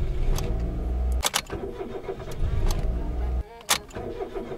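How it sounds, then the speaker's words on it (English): A Suzuki Alto Lapin car engine is repeatedly cranked and started, with loud bursts of starter and engine noise broken by short gaps as the ignition is switched on and off, close to the microphone. "Turn the car on for 3 seconds."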